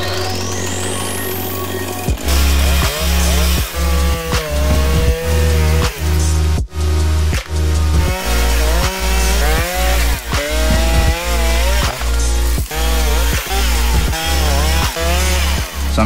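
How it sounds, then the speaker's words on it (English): A chainsaw cuts through fallen blowdown trees at a forest site, loud and close, its engine snarl pulsing in a steady repeating rhythm of bursts as the blade works through the wood. "Sometimes being an environmental scientist means you also need to wield the chainsaw."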